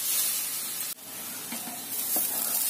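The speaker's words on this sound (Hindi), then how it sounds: "और फिर हम घी में गाजर को थोड़ी देर फ्राई करेंगे," Carrots frying in ghee give off a steady, fairly loud sizzle and hiss, broken by one sudden brief dip and a couple of soft stirring scrapes toward the end.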